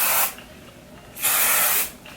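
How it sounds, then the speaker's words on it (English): Two bursts of Got2b spritz hairspray aimed at curls of a flipped bob wig, each a broad airy hiss, the second longer at about half a second, close to the mic with quiet between. "I think I'm gonna spray this on the curls"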